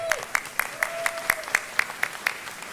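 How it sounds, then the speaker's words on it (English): An audience of public school teachers claps at a back-to-school event, a sparse run of distinct, evenly spaced claps over a quiet background, rather thin and close. "Let's clap that up"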